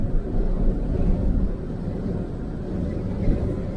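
Strong gusting wind buffets a motorhome on the road, producing a loud, continuous low roar and rumble that surges and eases without pause.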